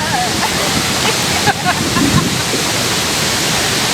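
Chitrakote waterfall in Bastar roars as a loud, dense, unbroken wash of falling water close by, drowning out everything else.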